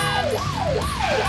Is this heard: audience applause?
no